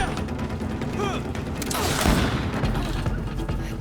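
Enemy gunners fire guns in Greedfall, scattered gunshots and a heavier boom mid-clip over a busy game soundscape, with voices talking underneath.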